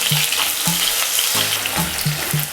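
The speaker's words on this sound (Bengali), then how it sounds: "পেঁয়াজগুলোকে হালকা ভেজে নেব, বেশি লাল করব না।" Chopped onion pieces hitting hot white oil over lowered heat, a loud steady fry with repeated sharp low sizzling bursts as more onion drops in, no voices.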